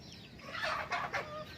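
Free-range village chickens clucking in short bursts, fairly close, with a couple of louder squawky calls and no talking, amid light rain near rice fields.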